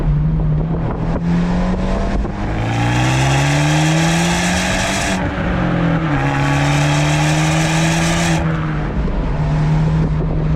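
A modified Abarth 124 Spider's engine revs up and shifts through gears while driving, rising and falling in pitch with a loud, raspy exhaust note, close and alone.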